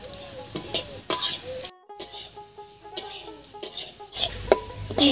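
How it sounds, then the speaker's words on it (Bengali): Sesame seeds roast in a wok over a stove while being stirred, heard as intermittent scraping and clinking strokes of a utensil against the pan with a light crackle between, close and uneven. "এবারে নাড়িয়ে চাড়িয়ে বেশ লাল করে তিলটা ভেজে নেব।"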